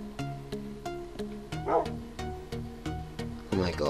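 A Minecraft dog barks and whimpers in the video game, a steady series of about ten evenly spaced yips, close and clear, with brief bursts of other game noise near the middle and end.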